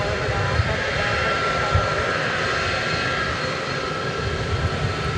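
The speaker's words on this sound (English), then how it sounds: "Here's another A300." At DFW Airport at night, an Airbus A300 jet airliner sends out a steady, loud engine roar that stays even from start to finish, with a slight high whine mixed in.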